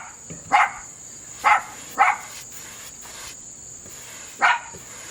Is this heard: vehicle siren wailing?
no